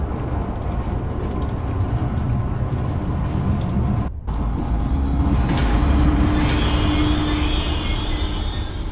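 A train starts up and runs in the horror video game Zoochosis, a steady loud mechanical rumble and rolling drone, a brief drop-out midway, then a rising whine as it gathers speed, with no voices.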